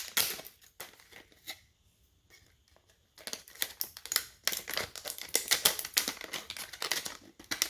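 Plastic and cardboard product packaging, holding a lock, torn and crinkled open by hand in sharp, close, irregular rips and crackles, quieter at first and then busier and louder toward the end.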